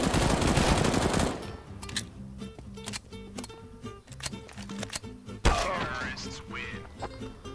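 Rapid bursts of gunfire from the video game CS:GO crackle through a busy match, sharp repeated shots clustered together with a heavier blast near the end, while players talk excitedly over the action.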